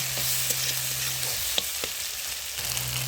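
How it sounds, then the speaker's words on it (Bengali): Onions sizzle steadily as they are lightly stirred and fried in a pan, a continuous close hiss with faint scraping touches and no talking. "পেঁয়াজ সব দিয়ে নিলাম, দিয়ে হালকা করে একটু নাড়াচাড়া করলাম"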